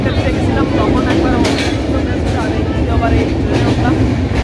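A passenger train running between Khulna and Godkhali, heard from inside: a steady, loud low rumble of the moving carriage with faint rattling, continuous throughout with some voices in the background.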